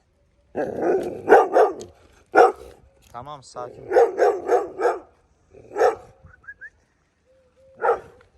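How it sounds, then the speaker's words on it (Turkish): A street dog wearing a chain barks in short bursts close by, interleaved with a person speaking calmly, with a few high yips toward the end. "Bana bak havlama bana."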